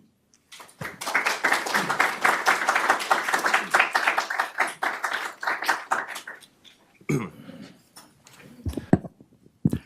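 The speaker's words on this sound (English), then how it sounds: "please give a round of applause to Judge Xu" An audience applauds a judge at a talk, a burst of clapping that swells quickly, holds for several seconds, then thins to scattered claps with faint movement afterward.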